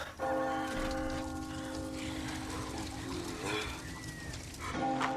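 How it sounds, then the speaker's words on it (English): A church bell tolls in a village in Resident Evil 4, sustained ringing partials carrying loud and steady for several seconds, with a fresh strike near the end. "a church bell rings"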